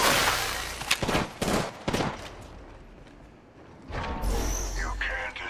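Several sharp gunshots crack out in an Apex Legends ranked match, loud at first then fading, followed by a whooshing ability burst, with a player talking over the action.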